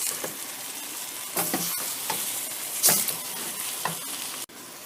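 Pozole ingredients seasoned with black pepper fry in a hot pot while a spoon stirs them, a sizzling hiss broken by several scraping clatters, close and with no talk.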